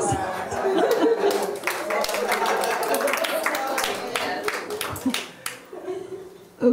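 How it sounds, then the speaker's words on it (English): An audience at a self-liberation workshop gives a brief round of applause, scattered claps mixed with chuckles and chatter, thinning out toward the end as voices take over. "Give yourself a round of applause."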